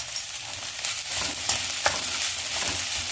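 Peanut chutney tempering fries with curry leaves and coconut in a pan, a steady loud sizzle with occasional stirring scrapes and small pops, close up and without voices.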